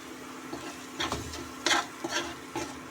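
Tomato paneer curry stirred in a pan in a dhaba-style kitchen, giving a few soft scraping and sloshing strokes over a faint background sizzle, close and moderately quiet, with no voices.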